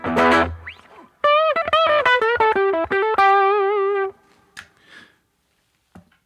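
Distorted electric guitar on the bridge pickup with a bright, biting hard rock tone plays a quick run of sustained notes with vibrato, then rings out and fades, a few faint clicks after.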